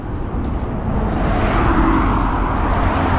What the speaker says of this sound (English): And we have a school bus here.